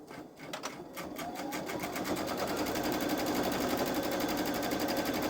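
A Babylock Solaris 3 sewing machine back stitches, opening with a few separate rapid needle clatters before settling into a steady, close mechanical whir, with no one talking.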